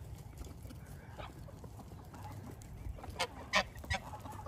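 Geese honk a few times in the middle distance, short nasal calls near the end over a quiet outdoor background.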